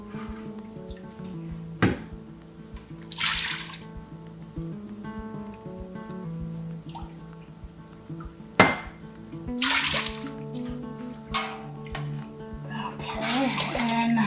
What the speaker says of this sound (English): now we're going to try to remove half of the whey and replace it with this heated water.